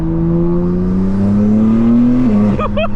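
A 2024 BMW M4 Competition xDrive with aftermarket intakes drones loudly from inside the cabin, its engine tone rising steadily under acceleration before a quick drop and chirping whine at a shift, with a voice briefly heard.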